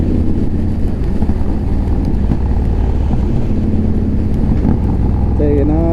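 Riding a 2015 Victory Vegas 8-Ball motorcycle on a rough road, its engine rumbling steadily and loudly throughout, with wind noise and a brief higher tonal sound near the end.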